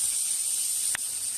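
A burger patty cooks in a pan, giving a steady, even hiss of sizzling fat throughout, with one short clink partway through.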